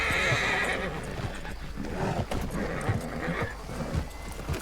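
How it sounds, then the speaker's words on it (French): Horse in the Red Dead video game whinnying, with hooves clip-clopping in a steady rhythm at moderate volume. "mon cheval il a pas l'air d'apprécier"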